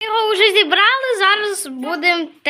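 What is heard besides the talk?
No distinct noise like a dog, phone or traffic.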